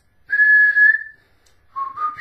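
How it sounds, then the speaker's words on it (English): Someone whistles two clear notes up close: a long steady tone, a pause, then a shorter phrase that rises in pitch. "Let's see if I can whistle."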